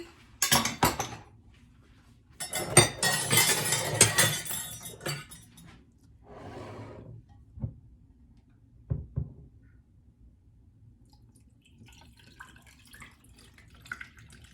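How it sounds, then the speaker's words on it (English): Homemade Jamaican-style carrot juice is poured into a glass, with clinks of glass and utensils, a longer splashing pour lasting a few seconds, then scattered drips and light clatter fading into quiet. "now I'm gonna pour my juice in my glass"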